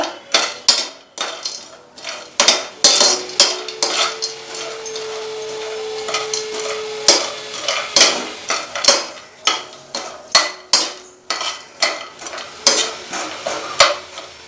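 Cashews fry in hot ghee as a spoon stirs and knocks repeatedly against the metal pan, a busy run of close clanks and scrapes over a soft, steady sizzle.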